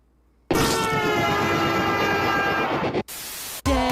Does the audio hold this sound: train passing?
yes